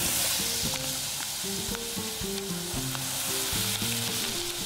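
Starch-coated food goes into hot oil and fries with a loud, dense sizzle and steady crackling, close up, with light clinks of utensils in the pan; no talking.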